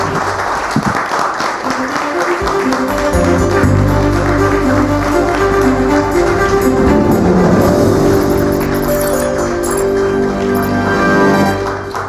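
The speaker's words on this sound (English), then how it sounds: "we have a warm round of applause, please?" A crowded hall at a business event with the finance minister breaks into sustained applause, loud and dense, building and holding for several seconds before easing off.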